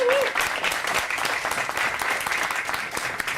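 Studio audience at an investment talk show taping applauding steadily, a loud, even wash of many hands clapping throughout with no pause.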